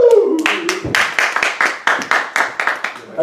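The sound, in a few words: audience applause for the hosts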